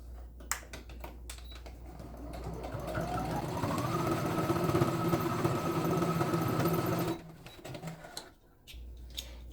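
A sewing machine topstitches the lining of a fabric pouch, running in a steady mechanical whir for a few seconds after some light handling clicks, then stopping, followed by more soft fabric shuffling.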